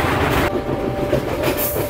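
Maha Kumbh special passenger train running along the rails, a steady close rumble of wheels with a faint high whine throughout and a slight change in tone partway through.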